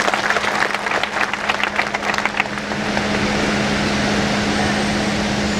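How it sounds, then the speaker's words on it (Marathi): An audience at a political speech applauds for Narayan Rane, dense clapping for a few seconds that fades into a steady hall hum with a constant low drone. "आपल्याला आदरणीय नारायण राणे साहेबांना टाळ्या द्यायला हरकत नाही."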